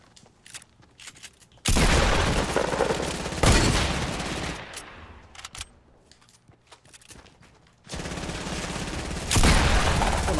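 Bursts of rapid gunfire from Fortnite on PS4, loud and sustained, with short quieter gaps between volleys.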